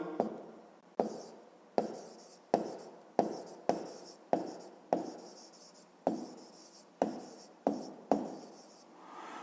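Pen or chalk writing numbers during a fifth-grade math lesson, about a dozen distinct scratchy strokes in a regular rhythm, close and fairly quiet with no talk.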